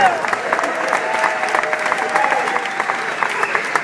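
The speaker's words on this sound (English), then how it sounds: "We'd have a little round of applause for her." Loud, close applause at a lifetime achievement award ceremony honors Amy Doctor, continuous crisp clapping from a crowd with a faint voice drifting underneath.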